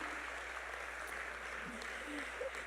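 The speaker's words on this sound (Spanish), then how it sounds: "Dale un buen aplauso al Rey en esta hora." Congregation applauding at a church retreat service in New York City, a steady dense wash of clapping with faint voices mixed in.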